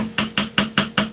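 Cabbage being chopped on a cutting board, five sharp, evenly spaced knife strokes in quick succession, close and fairly loud with no talking.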